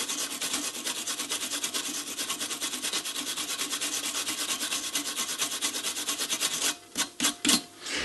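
Rapid rhythmic scrubbing rasps against the grooved plastic of a NuTone intercom as buildup is cleaned out, close and steady before breaking into a few separate strokes at the end.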